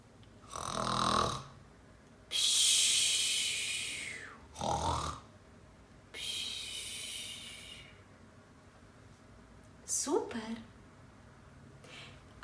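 A voice imitating a sleeping bear's snoring: several loud, breathy snore-like snorts and hisses in an irregular rhythm, close and alone, told as part of a children's finger-play story about a little bear.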